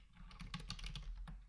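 Quick, close keystrokes clatter on a computer keyboard as text is entered into a table heading, a steady run of soft clicks at low volume with no voices.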